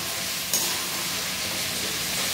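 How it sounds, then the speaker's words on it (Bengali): Garlic fries in a pan for a chilli chicken dish, making a steady soft sizzling hiss throughout with one brief clink near the start. "এখানে আমি রসুনটাকে অ্যাড করে আর একটু হালকা 3 মিনিট ভেজে নেব"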